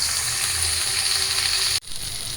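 Hilsa fish fritters wrapped in gourd leaves frying in oil in a pan, a steady close bubbling sizzle that briefly cuts out near the end before resuming.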